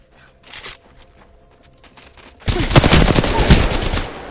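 Gunfire aimed at the player in a video game: a faint distant shot early, then a loud close burst of rapid automatic fire that rattles on for about two seconds before easing off.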